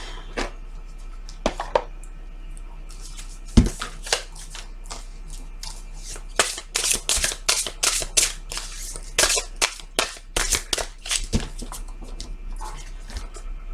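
A deck of tarot cards is cut and shuffled by hand, giving scattered flicks and slaps followed by a dense run of crisp riffling snaps. The sound is close and moderately loud, with a low steady hum beneath and no talking.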